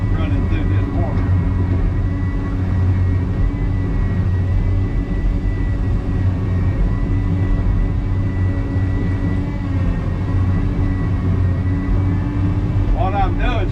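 A bulldozer drives through a muddy corner near a dam, giving a steady loud engine drone and low rumble that holds without break throughout.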